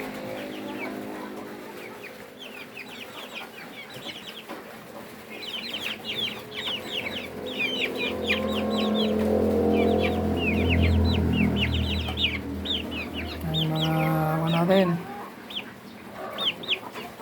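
Young hybrid chicks, about two weeks old, peep in rapid high chirps alongside clucking farm fowl, while someone talks nearby over a low background hum.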